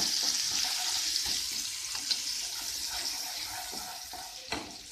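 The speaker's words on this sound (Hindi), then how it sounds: "इसमें हम डाल लेंगे अदरक, लहसुन, हरी मिर्च, जीरा। सभी चीज़ों को अच्छे से भून लेंगे।" Ginger, garlic, green chili and cumin frying in hot oil, a soft steady crackling hiss with occasional light scrapes of a spoon, moderately quiet and close, no one talking.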